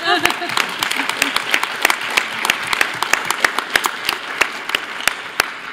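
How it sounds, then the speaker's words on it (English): Scattered clapping from a conference audience breaks out with distinct, sharp individual claps. It thins into an uneven, sparse patter, with some voices mixed in. "You can clap for that."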